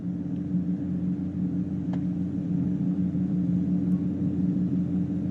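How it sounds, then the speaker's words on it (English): Mitsubishi MU-2 turboprop engine in Microsoft Flight Simulator, a loud, steady droning rumble with a constant low hum that holds evenly throughout, with no talk over it. "With this plane, it is real loud."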